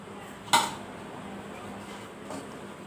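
A single sharp clatter sounds up close as a lid or cover goes onto a dish of marinated chicken for chicken fry. A faint second knock follows about two seconds later over a steady room hum.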